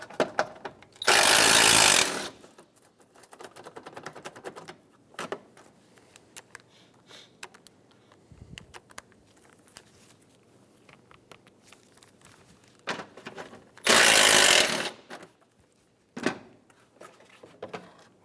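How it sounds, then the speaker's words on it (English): Two long bursts of rapid tool noise, like a powered ratchet on a 10mm socket, loosen the two bolts on the air intake of a 2010-2015 Lexus RX350, with quieter clicks and handling sounds between them. "Using a 10mm socket, we're going to remove the two bolts off this air intake."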